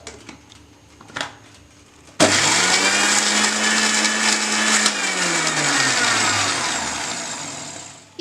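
A blender grinds small cubes of aloe vera gel, starting abruptly with a loud, steady whirring roar that runs for several seconds, its pitch easing down slightly toward the end after a few faint knocks beforehand.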